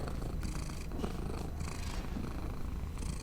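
A cat purring close by, a steady low rumbling that pulses gently and continues without pause, with no voices.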